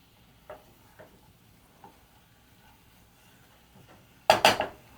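Potatoes being tossed with parsley and melted butter in a pan produce a few light utensil taps, followed by a louder metallic clatter near the end, over a faint background hiss.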